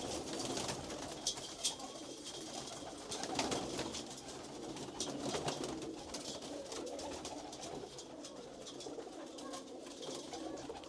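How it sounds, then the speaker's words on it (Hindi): Pigeons coo softly and repeatedly at a distance, low murmuring calls blending with faint background noise and occasional wing rustles. "ये पीली कबूतरी है"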